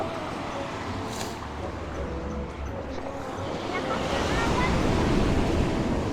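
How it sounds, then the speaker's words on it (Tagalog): Strong ocean waves surge and wash in a continuous heavy roar, with wind gusting across the microphone and people speaking over it. "papakita ko sa inyo kung gaano kalakas yung alon"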